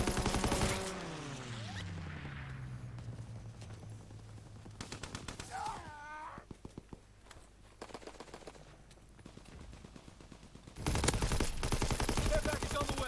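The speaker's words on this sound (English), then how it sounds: "Strafing the target." Gunfire in Call of Duty WWII multiplayer, with a fighter plane strafing the target: dense machine-gun bursts and rapid volleys rattle continuously, a swooping tone sweeps past early on, and a loud final stretch of fire closes it out.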